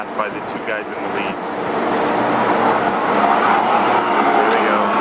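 Go-kart race cars circling the racetrack aboard the Norwegian Bliss cruise ship, a steady broad engine drone that builds slightly and holds loud throughout, with people talking over it.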